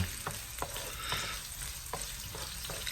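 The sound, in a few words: onion frying in oil in a pan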